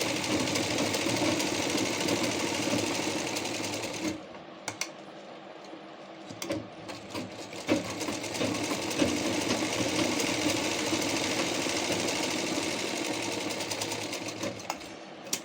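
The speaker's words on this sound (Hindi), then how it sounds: "अब यहाँ सेंटर में जितना भी स्पेस है उसमें 2 स्टिचिंग मैं और करूँगी इस तरह से।" A sewing machine runs steadily as it stitches lines onto a blouse, with a fast mechanical whir that pauses briefly, then resumes with clicking and clattering over several seconds.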